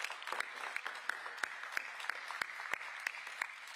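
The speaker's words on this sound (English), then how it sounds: "Yeah, you can clap to that." Audience applause after a remark about gig delivery workers' $19.56 hourly wage, a steady dense patter of clapping with sharper individual claps standing out, moderately loud and without talk.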